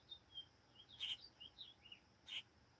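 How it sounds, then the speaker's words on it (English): Cardinal singing in a backyard: a few faint, high, clear whistled chirps at a distance, spaced irregularly over a steady low outdoor hum, with no voices. "I hear another cardinal."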